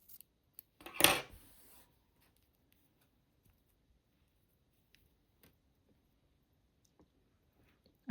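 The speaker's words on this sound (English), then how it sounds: "I'm gonna cut it a bit shorter." Scissors snip crochet yarn once, a single close, crisp cut near the start followed by near silence with a few faint small clicks.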